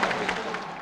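Crowd of Muslims and Europeans applauding together in Algeria, a dense, steady wash of clapping heard throughout the short moment, fairly loud and continuous.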